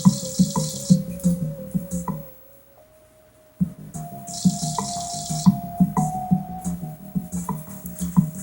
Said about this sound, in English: time to do some watering